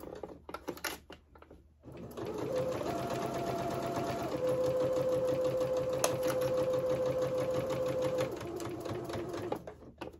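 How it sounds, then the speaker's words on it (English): A sewing machine stitches close to the edge through both fabric layers of a bag pocket, running as a steady fast mechanical whir for about seven seconds before stopping, with light handling clicks at the start and end. "I am sewing this as close to the edge as I can while still catching both layers."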